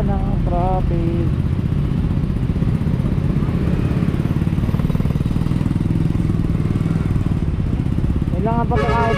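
Steady engine rumble of motorcycles in heavy traffic, close by and continuous, with a horn-like tone briefly at the start and end.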